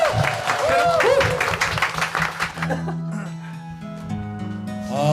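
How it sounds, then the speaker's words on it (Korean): Applause from a crowd at a Korean variety show, loud clapping and cheers under excited voices and laughter, then dropping off as music begins to play. "큰 박수 한번 주세요"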